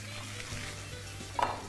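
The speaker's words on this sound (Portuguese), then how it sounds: "Deixa a panela trabalhar um pouco para ela fritar bem." Pork ribs sear in a pressure cooker pot with a steady close sizzle, and two short metallic clinks of a utensil against the pot stand out near the end.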